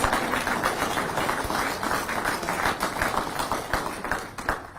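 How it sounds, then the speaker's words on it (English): Audience at an LFR graduation ceremony clapping, a steady wash of many hands applauding together at moderate volume for several seconds, with no voices. "let's give them a round of applause"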